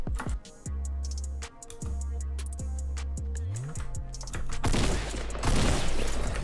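Gunfire in the Fortnite video game, with sharp repeated shots in bursts and a rising fusillade toward the end, loud and close over a steady game background.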